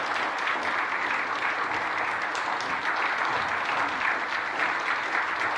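Sustained applause from a large church congregation during a Sunday service, many hands clapping in a thick, continuous wash that stays level from start to finish.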